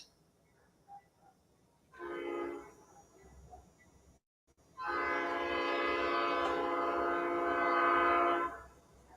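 A Norfolk Southern freight train passes, sounding a short horn blast, then after a brief gap a long, loud sustained horn chord over rumbling rail noise before fading.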